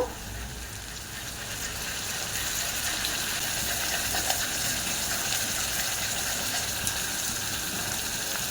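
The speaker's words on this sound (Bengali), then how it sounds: "অল্প করে জল দেব মশলাকে কষে নেব" A little water goes into a pan of cooking spice paste made with turmeric, chili powder and ground cumin-coriander, giving a steady, even hiss and bubbling that carries on throughout, fairly quiet and without talk.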